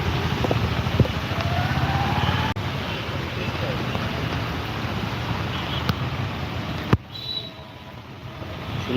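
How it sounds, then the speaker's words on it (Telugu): Dense, steady heavy rain from Cyclone Montha hissing without letup, joined by a few sharp clicks and knocks and a faint voice partway through. "వర్షం అయితే చాలా చాలా ఎక్కువగా పడుతుంది"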